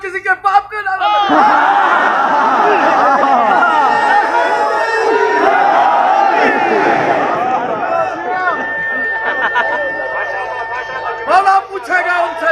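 A large crowd at a religious majlis in Mirpur Mathelo, Ghotki chants slogans in unison, loud and sustained and filling the hall, with some scattered voices toward the end.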